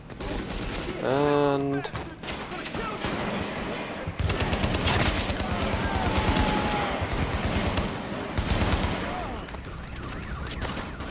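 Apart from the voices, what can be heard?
gunfire from The Division video game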